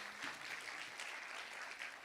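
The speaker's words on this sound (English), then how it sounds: "Would you please give them a big round of applause?" An audience claps for donors at a charity launch event, a steady wash of applause lasting about two seconds with no voices over it.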